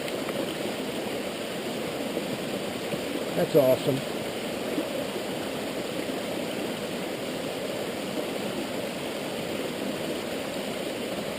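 Water from a stream used as a drinking source along the Appalachian Trail near Tumbling Run flows in a steady, broad rushing wash, with a person briefly speaking over it.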